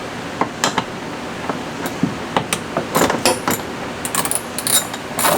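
A hand ratchet turning an 11mm socket to loosen bolts on an Argo Frontier winch plate mount, sharp metallic ticks and clicks arriving in irregular short runs, close and fairly loud, with no voice.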